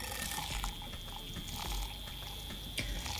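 Coffee pours into a creamy, whisked mixture of collagen and creamer, giving a continuous close liquid trickle and splash with a few small clinks, fairly quiet and steady throughout.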